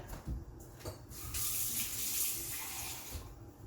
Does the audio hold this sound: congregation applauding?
no